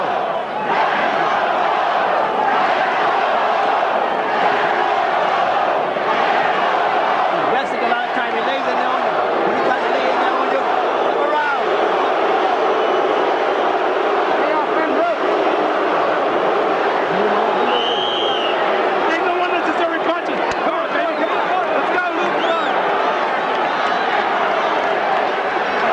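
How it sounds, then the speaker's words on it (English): A boxing arena crowd at ringside for the 1992 Riddick Bowe vs. Evander Holyfield fight chants and boos in a loud, continuous roar that never lets up, with voices talking over it. "Bowe chant that was orchestrated by his manager Rock Newman at ringside. The other half of the crowd, or 2/3 of the crowd, started to boo."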